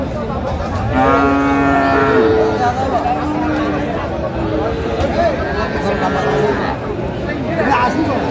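Cattle at a Manikganj market moo in several drawn-out calls amid a busy crowd of chattering voices and steady hubbub, the animals fairly close.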